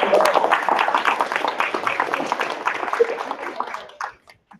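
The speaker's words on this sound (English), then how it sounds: "Let's give them one more round of applause" An audience applauds spelling bee contestants at a district spelling bee, a loud dense burst of many hands clapping close by that thins out and fades to a few last claps.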